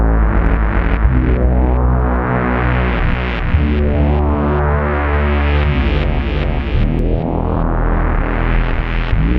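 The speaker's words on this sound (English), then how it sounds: "add to that the octave setting as well, and you can get a really low rumble" Bass guitar run through a BOSS ME-8B with octave and distortion engaged, giving a loud, thick, sustained low rumble of chugging distorted notes that shift in pitch across several phrases, with no talking.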